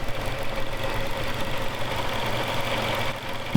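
A supercharged Ford Raptor engine with black superchargers runs nearby with a steady, loud, rumbling drone and no clear rise in pitch, alone without talk.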